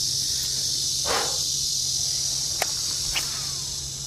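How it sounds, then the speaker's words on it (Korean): Cicadas drone in summer shade by a fishing spot, a steady high buzzing that fills the background, with a few soft rustles and clicks nearby. "그늘인데도 매미 소리를 들으니까"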